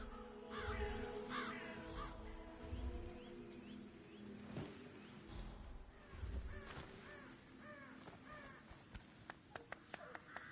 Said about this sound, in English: I'll never get rid of those stupid birds.